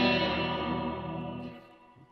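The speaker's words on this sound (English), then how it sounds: "That's the spring reverb." A sustained guitar chord drenched in springy, splashy reverb, slowly fading out with a metallic echo tail.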